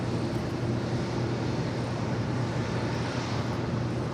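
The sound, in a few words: American Airlines Boeing 787-8 Dreamliner jet aircraft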